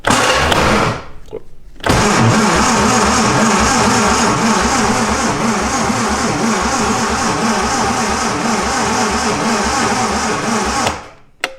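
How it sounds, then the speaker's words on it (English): A classic Lotus Elan with electrical faults, its engine cranking loudly on the starter in a rapid, rhythmic whir for about nine seconds after a short pause, then cutting off without starting. "let's see how fast it cranks now."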